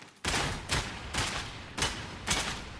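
Rapid gunfire from a weapon emptied through its whole magazine in the video game Darktide, loud sustained bursts with a clear rhythm of about four heavy pulses, no talk.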